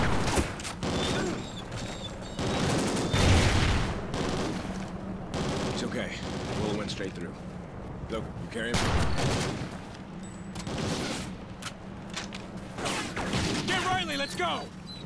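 Repeated volleys of automatic gunfire in the Call of Duty: Ghosts video game, loud and rapid, with a voice talking over parts of the shooting.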